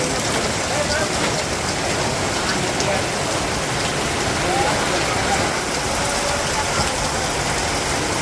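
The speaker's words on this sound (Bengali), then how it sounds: "ভালো রকম বৃষ্টি নামছে।" Heavy rain pours steadily in a Bangladeshi village, heard from a tea stall as a dense, even hiss of drops on surfaces, continuous and close throughout.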